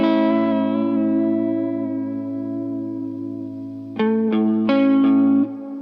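A sustained electric tone through a Triungulo Lab Malombra chorus/vibrato pedal, with a swirling, warbling modulation that rings on, then several sharper struck notes near the end, all soaked in effect.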